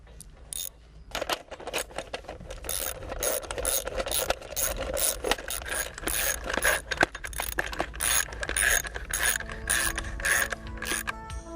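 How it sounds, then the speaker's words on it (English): Bolts being tightened on a wind turbine nose cone for a Grundfos SQFlex pump setup, giving repeated close ratcheting and metallic mechanical clicks in a steady run, with tool scrapes and clanks and no talking. "Remount the 3 bolts and tighten them properly."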